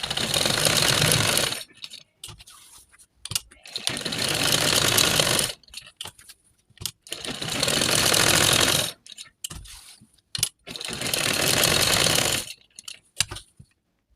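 Sewing machine stitching a poncho, running in three long bursts of steady whirring separated by quiet pauses with small clicks and handling sounds.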